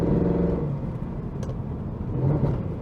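The V8 engine of a 2009 Mercedes-Benz C63 AMG rumbles steadily in fifth gear, a deep continuous drone heard from inside the car with slight surges in pitch.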